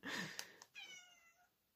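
A cat meows close by: one loud drawn-out meow, then a shorter, softer second meow, with quiet room tone and no talk.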